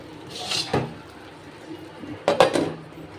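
A lid being set on a pot of boiling moong dal: two short metallic clanks against the rim, the second a louder rattle, over a faint simmer in a quiet kitchen.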